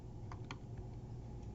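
A few quiet keystrokes on a computer keyboard while entering text into a presentation slide, soft isolated clicks over a low steady room hum.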